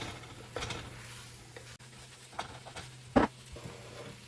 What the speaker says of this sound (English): Stir it around and cook it just about a minute. Mix them peppers and onions all in it.